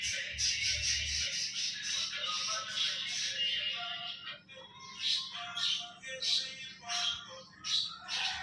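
Young budgerigar chicks chirp and squawk in a dense, busy stream of short, bright, overlapping calls. The calls come close to the microphone and continue without a break, with a low hum running underneath.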